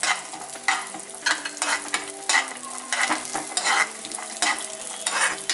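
Raisins roast in a pan for rava laddu, giving a soft sizzle and repeated scraping stirs in an uneven rhythm, close and fairly quiet, with no voices.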